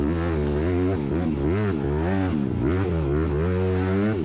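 A Honda CRF150R supermini motocross bike racing off road in a pro race, its engine screaming hard and close, pitch rising and falling repeatedly as the rider works the throttle through gears and corners.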